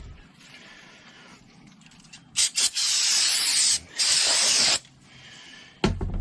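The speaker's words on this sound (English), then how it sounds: "So take you some brake cleaner." Brake cleaner sprays onto a new brake rotor for a 2017 RAM 1500 rear brake job in loud close aerosol bursts, one short, then two long sustained hisses, alone without talk.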